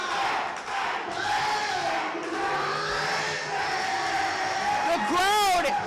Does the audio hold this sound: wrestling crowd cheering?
yes